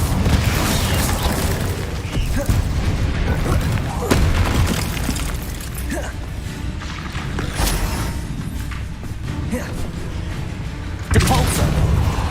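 Spell blasts from Confringo and Incendio in the Hogwarts Legacy video game, heavy booming explosions and fiery bursts repeating over several seconds, loud and close with a sharp final blast near the end.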